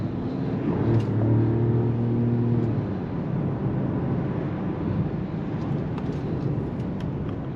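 A 2023 Mercedes-Benz S580e W223 S-Class plug-in hybrid accelerating gently, a low, smooth rising engine and road hum heard from inside the cabin, steady and moderate with a brief tonal whine early on and no talk.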